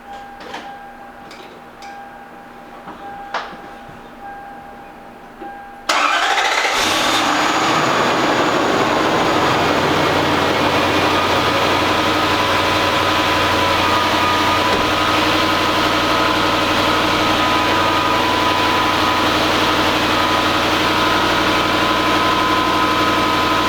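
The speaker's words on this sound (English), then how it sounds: "So now the only test is to start the car and verify that we have no further leaks." A Lexus LS400 engine cranks and catches after a few quiet clicks, then settles into a loud, steady idle that hums on unchanged for about twenty seconds, with no talking.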